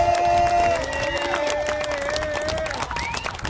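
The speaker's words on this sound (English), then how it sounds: "give this guy a round of applause" A crowd at a family Labor Day party on a farm gives a round of applause, with clapping mixed with whoops, cheers and overlapping voices, loud at first and then easing off.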